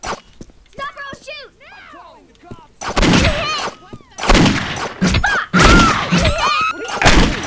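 Gunfire in the Postal 2 video game: a run of loud, close shots and heavy thuds in quick bursts, arriving after a stretch of voices and game sounds, with speech mixed in.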